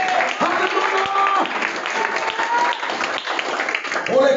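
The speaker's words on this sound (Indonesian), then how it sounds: "Tepuk tangan buat Yesus" A church congregation applauds together in steady, dense clapping during a worship service, with a voice speaking over the applause.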